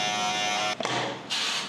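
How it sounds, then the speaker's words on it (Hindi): An electric trimmer buzzes over already-shaved stubble, with a loud steady hum that cuts out briefly, then starts again with a brighter tone. Close up, with no talking. "जो दाढ़ी पहले से ही शेव्ड है उसके ऊपर ट्रिमर मारना है।"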